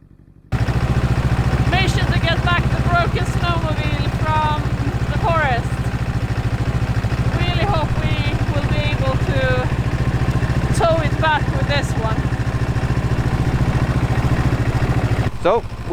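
A lighter Lynx snowmobile engine runs steadily in extreme cold, a loud close idling rumble throughout, with a person talking over it.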